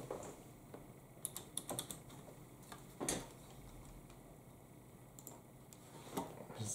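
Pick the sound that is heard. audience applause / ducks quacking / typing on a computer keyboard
typing on a computer keyboard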